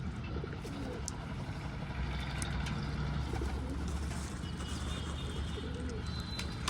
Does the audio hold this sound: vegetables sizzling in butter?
no